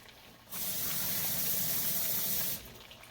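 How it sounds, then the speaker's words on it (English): A cup of water poured into a Jamaican lamb stew with bell peppers and onions: a loud, close, hissing splash lasting about two seconds, with quiet before and after. "And 1 more cup of water,"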